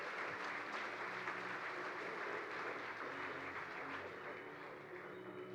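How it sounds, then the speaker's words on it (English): Audience applause fills a Denver Startup Week 2022 kickoff keynote, steady and sustained throughout, heard from within the crowd at moderate level. "There's your applause."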